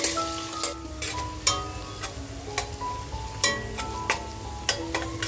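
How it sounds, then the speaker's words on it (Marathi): Sliced onions frying in a pan for a homemade prawn biryani, a soft steady sizzle broken by sharp scraping strokes of a spatula against the pan at irregular intervals. "आपण जो कांदा कापून घेतला आहे तो तळून घेते"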